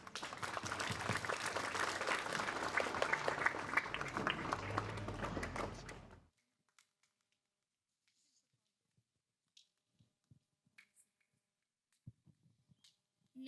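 A crowd at a summer school closing ceremony in Rashçe breaks into loud, dense clapping for about six seconds. It cuts off abruptly into near silence broken only by a few faint scattered knocks and rustles.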